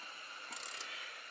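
A Tekton ratcheting end wrench clicks in a short run of quick pawl ticks, close and fairly quiet over a steady hiss of background noise.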